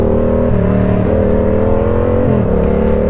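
Yamaha R7 motorcycle revving hard for a wheelie, a loud close engine roar climbing in pitch with brief dips at gear changes, continuous throughout with no talk.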